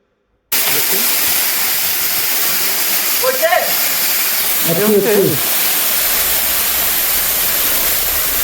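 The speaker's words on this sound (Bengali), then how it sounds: "পানির শব্দ" Shilbandha waterfall in Bandarban, a loud, steady rush of falling water that starts abruptly and holds constant, with brief voices heard over the roar.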